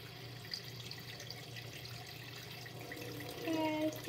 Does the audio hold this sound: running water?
yes